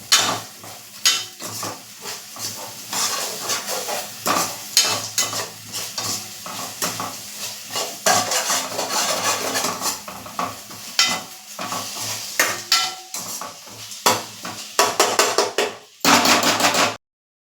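A spoon stirs and scrapes through potato and peanut khichdi in a hot pan after coarse pepper powder goes in. The frying crackles loudly and continuously, broken by repeated metal scrapes and clanks, and ends abruptly. No one speaks.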